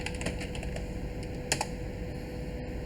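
Keys on a computer keyboard click in a quick, light series as a password is typed, a few sharper taps standing out, near and fairly quiet over a faint steady hum.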